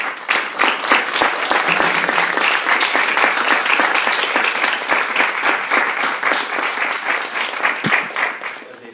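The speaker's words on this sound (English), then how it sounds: "please give them a round of applause" An audience at a graduation ceremony breaks into a loud, sustained round of applause, dense clapping from many hands that holds steady for several seconds before thinning out toward the end.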